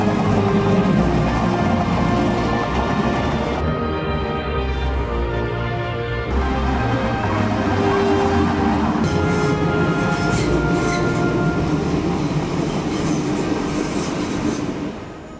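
A Euskotren narrow-gauge train on the Amorebieta–Bermeo line rumbles steadily and loudly from start to finish, with a brief quieter stretch in the middle and some higher metallic rail noise later on.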